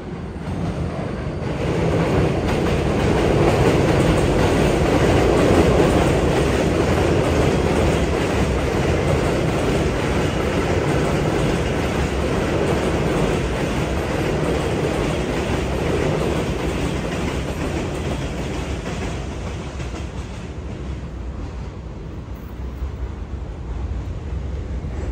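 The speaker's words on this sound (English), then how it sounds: "Oh, there goes the train, folks." A train rumbles past on elevated tracks in Bensonhurst, Brooklyn, a loud, continuous clatter and roar of rail cars that fills about twenty seconds before easing off, heard close by on a city street.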